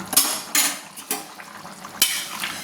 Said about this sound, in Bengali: দিয়ে আবারও ভালো করে আমি নেড়ে নিলাম